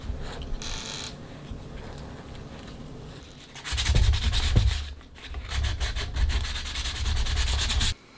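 Papier-mâché clay is smoothed over a horse sculpture in continuous rubbing, sanding-like strokes that start light and grow louder and denser partway through. No one talks.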